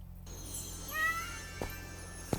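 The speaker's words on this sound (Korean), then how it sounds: "걸어서 다가와서 점점 주인공이 커지는 고양이 울음소리도 한번 내주고요" A cat meows a couple of times in an AI-generated animation, a soft rising-and-falling cry near the middle of the clip set against a steady background of music and ambient hum, with a short tap toward the end.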